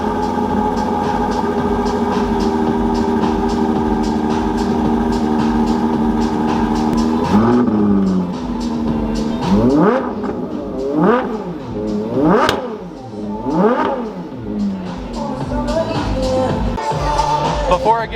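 A Ferrari sports car idles with a steady burble, then its engine is blipped in a string of sharp rising revs, several loud pulls in a row, with a crowd and voices around it outdoors at a Ferrari festival in Houston.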